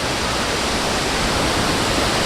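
Wulai waterfall in Taiwan pours as a constant, loud broadband roar, steady and unbroken, with no voices over it.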